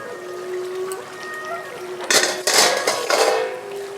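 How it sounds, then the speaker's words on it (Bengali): A metal lid lifted off a cooking pot of simmering rice, giving a loud clattering scrape and rattle with a ringing edge, followed by a few more clanks. "আমি ঢাকনাটা খুলে নিচ্ছি"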